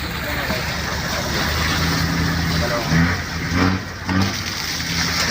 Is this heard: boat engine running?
yes